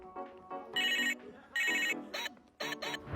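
A toy phone's electronic ringtone plays in several loud, bright bursts with short gaps between them. No one speaks.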